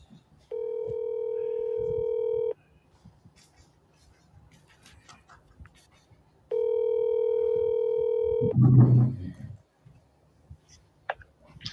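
A telephone call's ringing tone sounds twice, each a steady two-second buzz separated by a pause, followed by a brief muffled voice and scattered small clicks.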